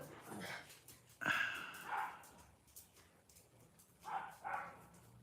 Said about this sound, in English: the dogs bark and don't cease to bark.